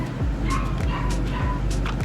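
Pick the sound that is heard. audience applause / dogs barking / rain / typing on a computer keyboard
dogs barking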